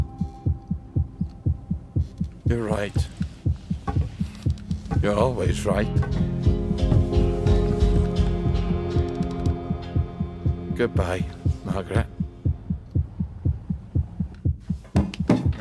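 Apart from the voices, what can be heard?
heartbeat pounding at zero hit points in We Happy Few video game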